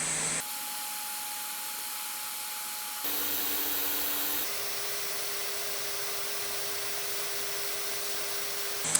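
A hot air gun blowing steadily while heating a mobile phone IC during reballing, a continuous close airy roar with a faint tonal whine that shifts pitch slightly twice.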